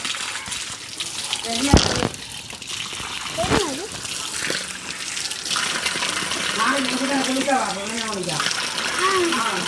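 Water gushes from a tap while a girl drinks from it, a loud running stream with sharp splashes early on, and people talk over it throughout.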